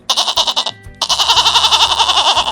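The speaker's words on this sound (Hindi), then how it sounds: "लेकिन बकरी अपने धुन में पीछे ही भागती रही।" A goat bleats in rapid, wavering pulses, loud and close, with a short pause before a longer sustained run of quavering cries.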